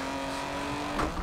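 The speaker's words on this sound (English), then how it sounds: "The car's not that happy on rumble strips." A BMW E36 M3 drift car in a racing game holds a steady, droning engine note, with a brief rougher burst near the end as it runs over rumble strips.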